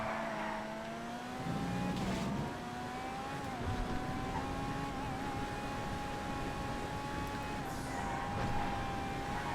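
In a GTA FiveM race at Los Santos GP, a car engine hums in a continuous, moderately quiet drone, pitch wavering gently as it holds speed, with faint background rumble throughout.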